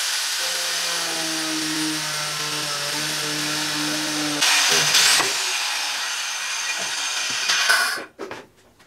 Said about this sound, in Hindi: ये सारा मैंने ग्राइंडर से कट कर दिया है